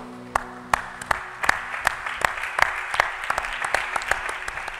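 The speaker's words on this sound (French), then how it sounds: "Nous acclamons notre Dieu." A church congregation claps in acclaim of God, a steady rhythmic beat of sharp claps, close and lively, with a faint murmur of voices beneath.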